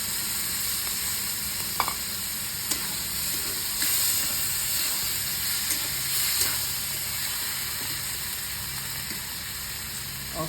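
Onions sizzle steadily in a hot pan while chopped tomatoes go in, a loud continuous frying hiss broken by a few soft clinks and stirring knocks, with no voices.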